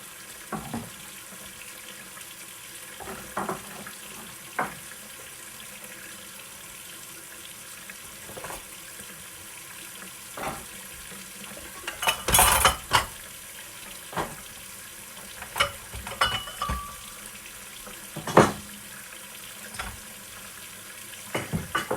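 Water running in a kitchen sink while dishes are washed, a soft steady trickle broken by scattered clinks and splashes of handled dishes, one louder clatter midway, close and fairly quiet, no voices.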